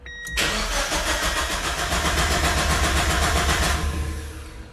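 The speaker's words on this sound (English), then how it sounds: "Let's go ahead and start it up real quick." Mazda Miata engine starting after an oil cooler install, a quick starter crank that catches into a loud, steady idle with a rhythmic pulse, close by, before easing off slightly toward the end.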